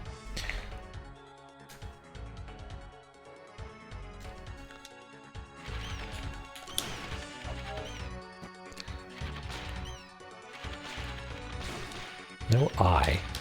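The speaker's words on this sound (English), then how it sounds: "No eye, so I feel okay smashing stuff." Pots smash in the video game La-Mulana, a run of loud breaking crashes and whacks over busy game music and effects, with a burst of stronger impacts near the end.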